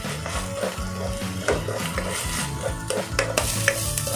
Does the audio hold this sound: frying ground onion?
yes